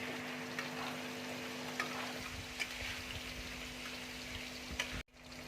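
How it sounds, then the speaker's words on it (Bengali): Spice paste with Kashmiri chili powder and a little water frying in a pan, a soft continuous sizzle with faint crackles and a steady hum, cutting off briefly near the end. "মশলাটাকে ভালো করে ভেজে নেব।"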